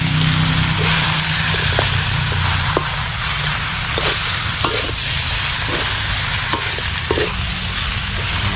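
Food stir-fried with curry powder in a pan, a loud, close, continuous sizzle with repeated scraping strokes of the utensil at an irregular pace, with no voices.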